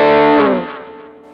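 An electric guitar played through a Fender Mustang GTX100 amp with delay and reverb rings out as a single distorted chord that decays smoothly, its echoing tail fading over about a second.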